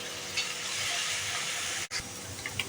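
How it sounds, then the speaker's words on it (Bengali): Spices frying with onions in a pan for chicken khichuri, a close, steady sizzle and hiss with light stirring scrapes, broken by one brief dropout. "মশলাগুলো দিয়ে দিব, পেঁয়াজের সঙ্গে ভেজে নেব।"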